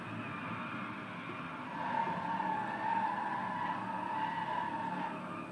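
A race car drifting in Driveclub squeals its tyres in a long, continuous skid over a steady engine drone, swelling louder midway and then easing, with no voices.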